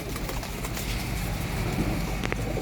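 A pair of small-beaked Shahjahani pigeons coo softly and continuously at close range, with scattered rustles and clicks around them.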